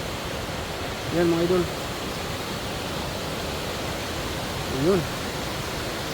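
A waterfall seen from above rushes in a constant, even roar that fills the whole scene, while someone speaks briefly over it.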